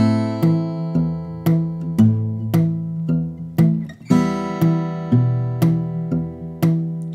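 Fingerstyle acoustic guitar pattern with a right-hand string grab on each downbeat: steady plucked chords in a regular pulse, close and clear, with no voice over it.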